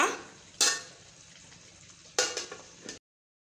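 Two short bursts of a spoon scraping and stirring through a thick okra tamarind curry with grated coconut in a pot, with a soft simmering hiss underneath.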